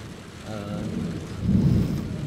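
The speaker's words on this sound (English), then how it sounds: "Listen to the thunder." Thunder rumbles low and continuous during a night storm, swelling louder toward the end, with rain-like wash underneath and faint talking.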